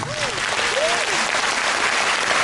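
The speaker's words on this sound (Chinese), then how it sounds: "谢谢你们的掌声" A concert audience at a church hall in Kaohsiung applauds a singer at a foundation's tenth-anniversary concert, a dense, loud, continuous wash of clapping with a couple of brief whoops rising above it.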